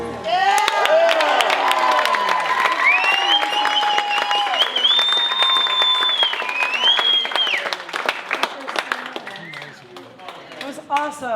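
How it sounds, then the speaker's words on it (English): An audience at a family camp cabaret claps and whistles, with dense, loud applause and long rising whistles plus a few shouts, then the clapping thins out toward the end. "Clapping and whistling"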